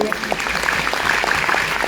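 Applause comes from an audience at a gathering in Uttar Pradesh, a dense, steady patter of many hands clapping with a voice faintly heard beneath it.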